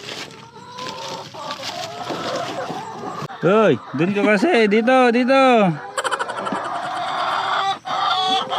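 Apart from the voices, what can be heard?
chickens clucking and a rooster crowing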